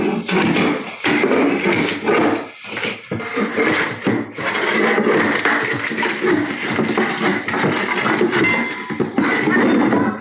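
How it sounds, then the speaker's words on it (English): Screwed-down hardie board being pried up during removal of a ceramic tile floor: close, continuous scraping and cracking with sharp knocks and gritty board noise, busy throughout. "pulling up the hardy board that was screwed down"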